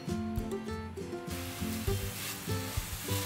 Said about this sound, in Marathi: त्याच्यामध्ये घालूया हे ड्रायफ्रुट्स खसखस आणि हे सगळं परतून घेऊया एकत्रच.